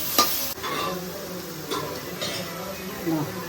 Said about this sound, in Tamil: கருவேப்பிலை நல்லா எண்ணெயில் போட்டால் தான் மொறு சாப்பிட்றது நல்லாயிருக்கும்